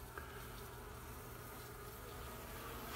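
A steady, dense buzzing of many bees around a hive fills the whole clip, constant and fairly close, with no voices.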